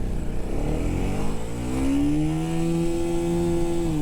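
A KTM Duke 250 motorcycle pulls hard through first gear, its engine note climbing steadily in pitch as it revs out, loud and close with wind rush around it.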